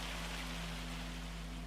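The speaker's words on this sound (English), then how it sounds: "Bye bye rain. Bye bye noisy stuff." Rain falls in a video game, a steady hiss of broadband noise with a low hum underneath, even and unbroken for a short stretch.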